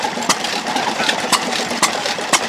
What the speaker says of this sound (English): Oh, and just for Vince, we've got 2 station engines here.